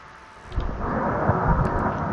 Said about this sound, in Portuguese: Eita, tá chovendo.